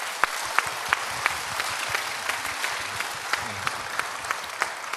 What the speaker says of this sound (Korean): 이 두 분을 위해서 다 같이 한번 박수 한번 쳐주시죠